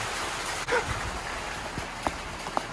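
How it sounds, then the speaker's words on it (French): Hail falls outdoors near a motorcycle, producing a steady soft patter with occasional sharper ticks, heard fairly faintly along with a few brief yelps in the background. "Ah là c'est de la grêle là."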